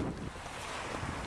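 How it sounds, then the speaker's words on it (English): Ocean waves wash against a rocky coast in a steady roaring rush, heavily mixed with buffeting wind noise on the microphone, with no voices. "Whoa, look at all them rocks. Waves."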